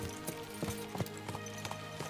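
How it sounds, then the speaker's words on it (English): Horses gallop in Kingdom Come Deliverance 2, rhythmic hoof clip-clops repeating at a quick pace over a steady low background drone, moderately loud and close. "Let's really spur these horses on, eh?"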